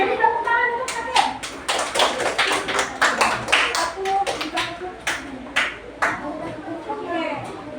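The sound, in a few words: class clapping for a student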